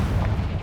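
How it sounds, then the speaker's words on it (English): A Confringo fire-spell explosion from Hogwarts Legacy: one short, heavy boom with a low rumbling body, close and loud. "Confringo!"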